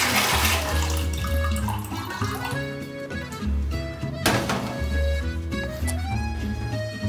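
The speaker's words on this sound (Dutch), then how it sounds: "gevuld het met water." Water runs and splashes into a pot from a tap, a steady rushing fill with a thunk partway through, heard alone in a close, reverberant room while music plays underneath.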